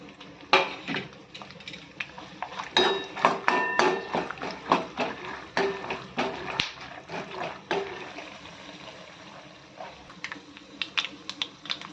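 Chana dal, urad dal and mustard seeds drop into hot oil, producing a flurry of sharp ticks and pops that cluster in the middle and then thin into sparse crackles. The sounds are close and fairly soft, with no speech.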